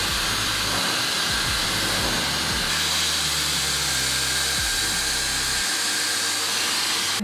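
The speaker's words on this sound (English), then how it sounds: "So I'm gonna go ahead and rough blow dry my hair" Hair dryer roaring steadily up close while hair is rough blow-dried with a round brush, a continuous loud hiss whose low hum shifts in pitch as it moves, no talking.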